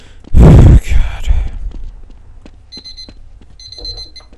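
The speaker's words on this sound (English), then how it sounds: "Freaking alarm clock." Alarm clock in Half-Life rings in two short bursts of rapid high-pitched beeping, preceded by a loud vocal outburst and some movement noise.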